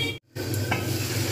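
Spiced masala for a papad curry frying under a lid: a muffled sizzle over a low hum, broken by a short silent gap near the start, then resuming steadily.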